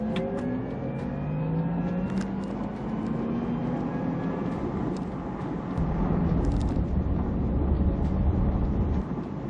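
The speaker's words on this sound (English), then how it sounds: "there's something very futuristic sounding about that battery response, the sound that you get when you're accelerating" A Porsche Taycan electric car accelerates, its motor giving off a rising futuristic whine with climbing tonal sweeps over road rumble, steady and close, growing heavier in the low end toward the end.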